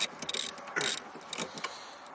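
The rear seat pulley mechanism in a Honda Ridgeline moves with a series of close, dry ratcheting clicks and short mechanical whirs in irregular bursts, fairly quiet with no talk.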